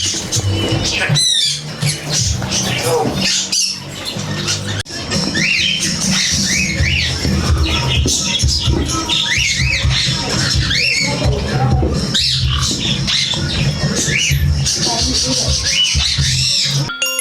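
A room of caged foreign pet birds in Canada chatters and squawks continuously, with many overlapping whistles and calls close by, mixed with cage rustling and shuffling.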